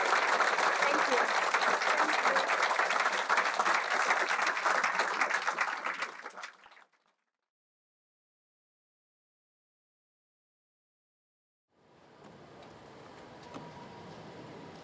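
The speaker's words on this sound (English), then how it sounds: "Another round of applause for the women of the Hub Community Kitchen" Applause for the women of a community kitchen at a lunch gathering: dense clapping for about six seconds that fades to silence, then quieter room sound with scattered claps returns.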